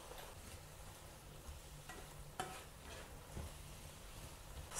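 Beetroot is stirred into a pan of stewing turkey and vegetables for a diet borscht, giving soft steady sizzling with scraping spoon strokes and a few light knocks against the pan, close and quiet.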